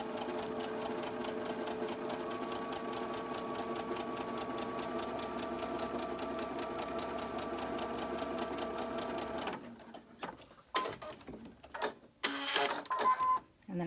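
Sewing machine stitching through fabric for a barn quilt block, a fast, steady mechanical whir for about ten seconds, then stopping into short bursts of slow stitches as the needle is lowered into sewn fabric.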